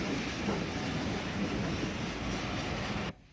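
Coupled C-Class steam locomotives hauling a train through Beckenham Junction, a dense continuous rumble and roar with rattling carriages that cuts off abruptly near the end.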